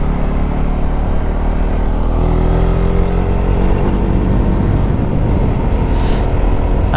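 A Husqvarna Svartpilen 401 motorcycle engine drones loudly and steadily up close, its pitch shifting as the rider changes gears without a quickshifter.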